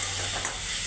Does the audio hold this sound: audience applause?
no